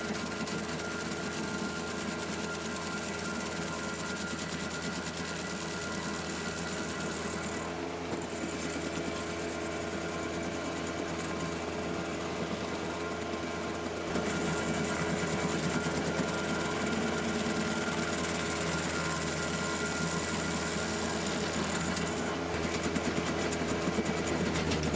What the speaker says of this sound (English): Grinding stumps, at least with this grinder, is not a speedy task.